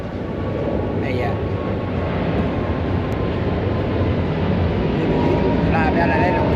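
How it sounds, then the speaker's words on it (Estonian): A loud, steady engine roar from an airplane flying overhead fills the whole stretch, broad and continuous with no break, and no one speaks over it. "Läheb jälle lennuk üle pea."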